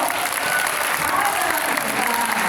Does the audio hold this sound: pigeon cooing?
no